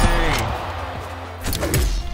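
A bomb explodes in the fighting game Brawlhalla, a loud close burst with thuds and crashes from the brawl, while a player's voice exclaims over it.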